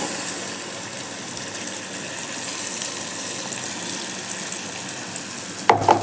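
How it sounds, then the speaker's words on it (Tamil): Ground garlic chutney hits hot tempering sesame oil seasoned with asafoetida and sizzles as a steady, hissing fry. A sharper, louder burst comes near the end, with no voices. "அரைச்சி வச்ச சட்னியை எடுத்து நம்ம இதில் ஊற்றிடுவோம்"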